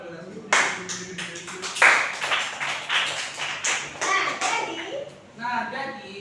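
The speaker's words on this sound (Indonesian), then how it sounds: "beri tepuk tangan kalau udah setuju" Classroom clapping from children, a series of sharp uneven hand claps and taps at close range, mixed with kids talking.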